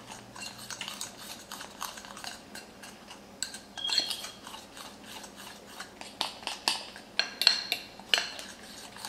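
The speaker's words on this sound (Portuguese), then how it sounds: "Então vai misturando assim devagarinho." A utensil slowly stirs batter in a bowl, making faint, quiet scraping and light clinks in an irregular rhythm that grows a little busier toward the end.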